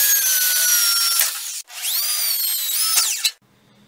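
A drill whines into a riding mower's fender while holes are bored for light wiring, in two loud bursts with the motor pitch sweeping up and down, then a short pause and faint clatter.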